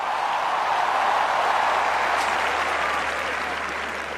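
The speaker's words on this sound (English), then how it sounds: "Let's give a huge round of applause." Stadium crowd applause at the Cricket World Cup 2011 opening ceremony in Bangladesh greets the team captains, a broad, even roar of clapping that sounds distant and massed, holding steady throughout.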